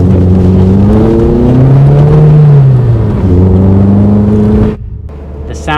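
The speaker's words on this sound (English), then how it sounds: "The sound from the MX-5 as stock, although this car's very capable, it is lacking a bit of drama and raspiness." Stock Mazda MX-5 Mark III (NC) roadster engine and exhaust, a loud steady engine drone with rising and falling revs that cuts off abruptly near the end, with no talking.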